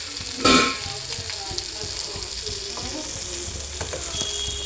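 Drumstick leaves (mulagaku) sizzle and fry in a pan for a Telugu curry, a steady close crackle with a louder burst near the start and small stirring knocks through the rest.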